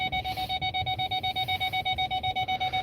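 A truck's collision warning beeps loudly and steadily, repeating rapidly at an even pace without a break, sharp and piercing.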